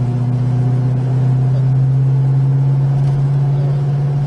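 A 1969 Dodge Charger SE cruises down the road with a steady, deep engine drone and a constant low hum, heard from inside the car at an even speed.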